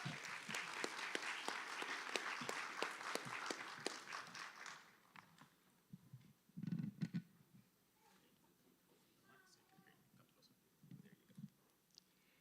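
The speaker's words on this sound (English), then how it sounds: "Let's give a round of applause to Claudia, please." An audience at a school debate applauds a speaker with a burst of distinct claps that fades out after about five seconds, leaving a quiet room with a few footsteps and small shuffling sounds.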